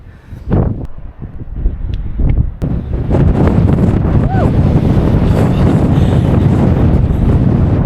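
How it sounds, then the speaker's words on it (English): Strong wind roars and buffets continuously on a coastal hiking trail, a heavy rumbling gust that builds after a few brief knocks and takes over. "I told you it was windy."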